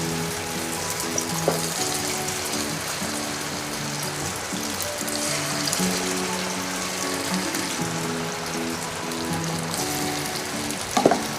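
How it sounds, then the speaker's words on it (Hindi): Chicken tikka pieces shallow frying in hot oil for biryani, a steady dense sizzle and crackle throughout, with a few sharper pops near the end and no talking. "और अब मैं इसको अच्छे से फ्राई करूँगी।"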